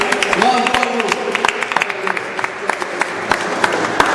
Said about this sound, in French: Je vous propose de vous applaudir vous-même.